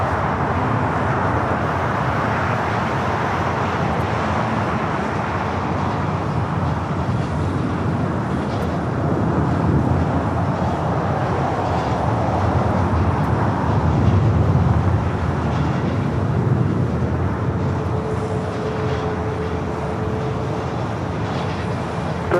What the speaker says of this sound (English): This is Korean Air Flight 18 taking off to Seoul on the